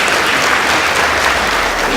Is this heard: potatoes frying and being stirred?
no